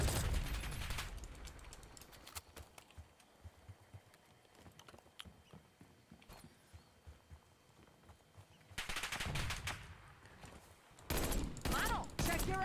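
Hand cannon gunfire erupts in the Call of Duty DMZ video game as a teammate is hit by friendly fire, with loud, sharp bursts of shots near the end over a steady game background.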